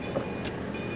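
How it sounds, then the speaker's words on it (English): A train runs at a wildlife safari park in Oregon, a faint steady rumble heard from a distance with no talk. "Oh, hey, there's the train."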